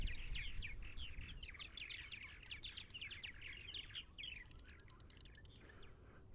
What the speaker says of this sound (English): When you get 100 birds here, it gets a little noisy, but fun noise.